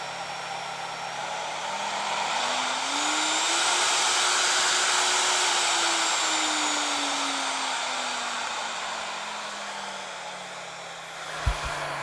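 A handheld woodworking router motor whines steadily as a dial ramps its speed up, holds it high, then slowly winds it back down, ending with a sharp click or thump.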